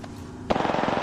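A short burst of rapid automatic gunfire in Apex Legends starts abruptly after a brief quiet lead-in, with fast, evenly spaced shots that are loud and close.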